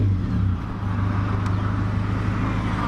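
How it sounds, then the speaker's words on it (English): A loud, rough Toyota Corolla engine starts and rumbles close by, idling with a deep throaty growl and a slight hiccup early on, from a hole in the exhaust. "Yes sir, she is a loud car."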